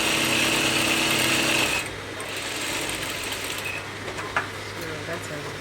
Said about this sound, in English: So I'm running another stitch at the center to divide where I'm going to insert the roll.